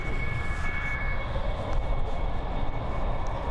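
A Lufthansa Cargo Boeing 777 FBT at Frankfurt Main Airport gives a loud, continuous engine roar with a steady whine on top, close and unbroken with no voices.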